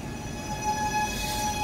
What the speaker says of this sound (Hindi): साडी ट्रेन जी आ गई है।